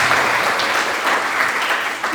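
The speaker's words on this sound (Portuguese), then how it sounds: "Se for para Jesus, aplauda bastante, glorifica a Deus, dê glória a Deus." Church congregation applauding loudly and steadily, a dense wash of many hands clapping close by, continuous for about two seconds and fading slightly at the end.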